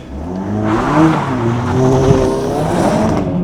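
A Ford Focus ST track car engine warming up, a loud nearby rumbling exhaust with revs wavering up and down in rising and falling sweeps, heard alone with no talk.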